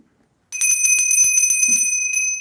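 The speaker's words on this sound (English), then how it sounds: "Ooh, I love a new bell." A small bell is rung to set the tone for a tarot reading. After brief silence it is struck rapidly about a dozen times, close and bright, leaving a long sustained shimmer.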